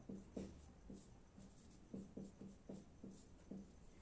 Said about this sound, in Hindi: एक बार हम लोग ये भी चीज लिख लेते हैं।